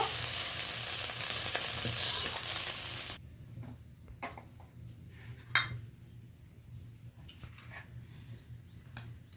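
Small Niharika pond fish frying in oil in a wok, a dense steady sizzle for the first few seconds that drops away abruptly, leaving quiet background with scattered clinks and scrapes.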